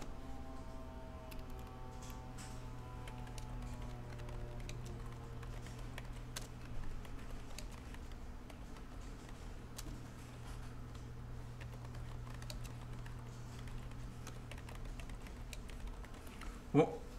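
Scattered clicks of a computer keyboard sound while text is entered in CAD drafting software, sparse, soft keystrokes over a low steady hum, with a louder key press near the end.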